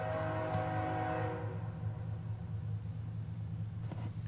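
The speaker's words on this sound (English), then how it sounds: "we start to hear distant horns off beyond the city limits" A BNSF grain shuttle train heading eastbound on the WSOR Fox Lake Sub sounds its horn far beyond the city limits at night. The faint chord fades after a second or so into a low, steady rumble.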